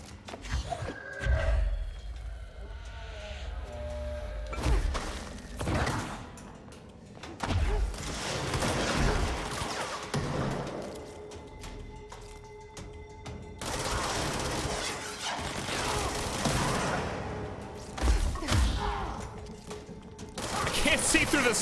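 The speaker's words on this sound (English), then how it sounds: "Who is shooting rockets?" Rockets fire in the video game Control as several heavy blasts and bursts arrive one after another, with mechanical clatter in between and a voice talking over parts of the action.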